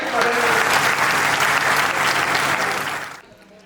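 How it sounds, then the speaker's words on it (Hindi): Audience at a Hindi kavi sammelan poetry gathering breaks into dense, sustained applause that holds steady for about three seconds, then quickly fades to near silence. "एक बार तालियां बजाइए।"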